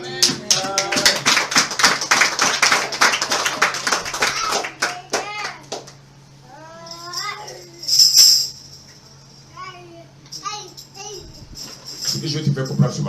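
A church congregation claps in a quick, dense burst of applause, near and loud, that fades after a few seconds into scattered voices and a faint hum.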